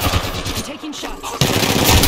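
Rapid automatic gunfire from an Apex Legends match bursts out loudly in close, dense volleys, dipping briefly mid-clip before a heavier stretch of shots at the end, with faint game chatter beneath.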